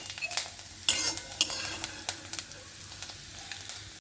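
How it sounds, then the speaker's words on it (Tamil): Grated coconut roasting in ghee in a pan gives a soft sizzle under repeated scraping and clinking as a utensil stirs it against the metal, close and fairly quiet. "இந்த தேங்காய் அதில் போட்டுடலாம். இதை கொஞ்சம் சிவப்பாக ஆற வரைக்கும் இதை வறுத்துக்கணும்."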